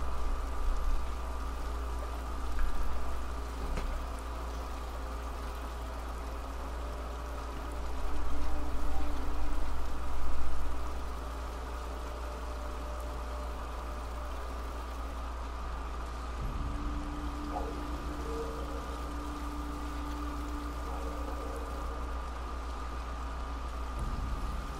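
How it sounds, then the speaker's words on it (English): Steady rainfall in the Ghost of Tsushima game: a constant soft hiss of rain with a low background rumble, continuous and even, briefly joined by a sustained tonal hum later on. "The rain's kind of muffling my movement too"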